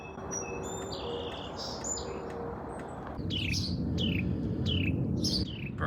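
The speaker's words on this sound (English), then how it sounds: "Birds are chirping away." Many birds chirp and tweet outdoors on a Cape Cod morning in autumn, with short repeated calls from several directions over a steady low background hum, growing a little louder partway through.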